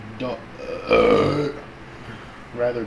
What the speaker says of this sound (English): belch, yes.